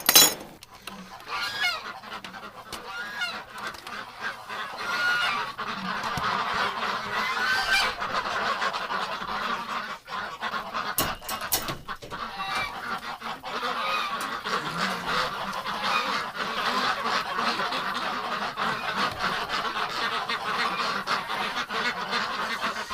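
Ducks honking and quacking continuously inside a barn in winter, a dense overlapping chorus from a flock close by, steady throughout with no talk.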